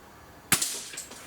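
A single sharp crack from a Gamo Swarm Magnum Gen3i .25 caliber air rifle fired close up, followed by a brief fading ring and faint after-clatter.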